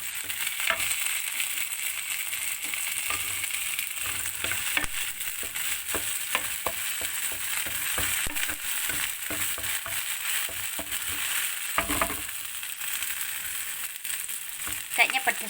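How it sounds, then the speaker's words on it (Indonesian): Garlic, white spring onion and chili stir-fry in a pan with a continuous loud sizzle, broken by frequent scraping and tapping of the spatula close by. "pertama tumis bawang putih dan daun bawang yang putih sama cabai ya."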